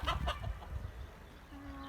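Chickens cluck in short, close bursts, then settle, with a single drawn-out higher note near the end.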